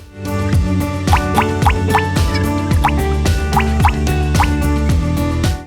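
Dish soap drips into a tray of milk during a kitchen science experiment, producing loud, close plops at a regular rhythm, roughly two per second, with no talking.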